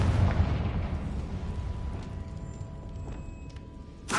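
A Confringo blasting spell in Hogwarts Legacy goes off as a rumbling explosion with a heavy low boom at the start that decays, followed by faint crackling and a sharp burst at the end.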